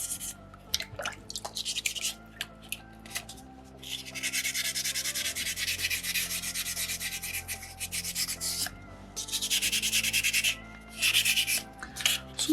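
Steady rasping strokes of sandpaper rubbing on soft soapstone, close up, in long continuous bursts with brief pauses between them.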